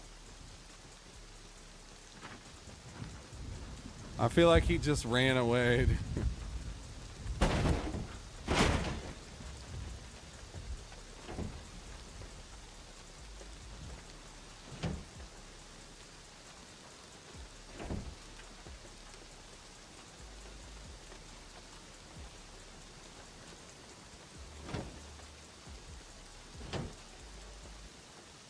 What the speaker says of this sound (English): That's rain hitting the car.